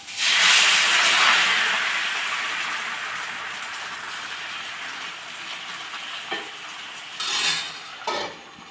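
Oil hits a hot dosa griddle with a loud burst of sizzling hiss that slowly fades to a softer steady hiss, broken near the end by a few brief clinks and scrapes, with no voices.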